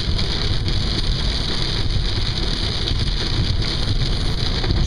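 Rain falls on the road while driving down into a valley, a dense, constant hiss blended with road rumble and wind noise, with no talking.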